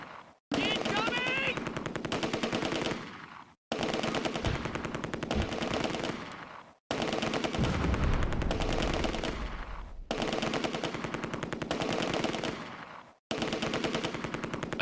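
Rapid machine-gun bursts from an MG42 in the Close Combat war game, loud and close, repeating in several long sustained strings separated by brief silent gaps, with a low thump under one burst.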